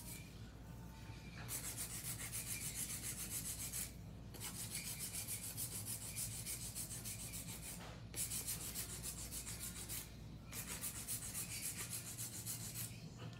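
Rhythmic rasping of a stone file hand-filing long nails, scraping back and forth in long continuous bursts separated by short pauses.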